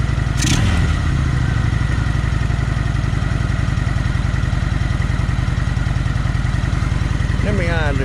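A Kawasaki Vulcan 900 motorcycle with its restrictor plates removed idles loud and close, its steady low rumbling chug running throughout with a brief clatter near the start and a short rise in pitch near the end.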